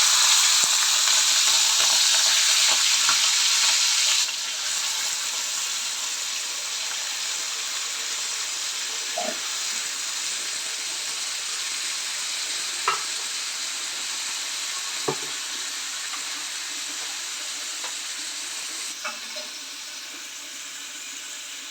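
Washed prawns fry in about two cups of hot oil for a prawn curry, a loud, dense sizzling hiss that eases somewhat after a few seconds and continues steadily, with occasional small clinks, close by.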